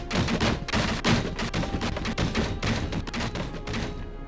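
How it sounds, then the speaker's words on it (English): A glitching chair in Batman: Arkham Asylum lets out a loud, rapid stream of thumping, rattling bursts that stutters on without a break, like jittery gunfire. "we get to hear that beautiful sound of a glitching item"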